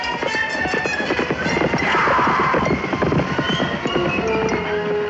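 Horses gallop during a wild horse roundup on open range, a loud, dense, continuous drumming of many hooves with a whinny rising midway, heard alone without speech.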